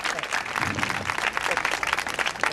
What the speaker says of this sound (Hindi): जोरदार तालियों के साथ स्वागत बच्चों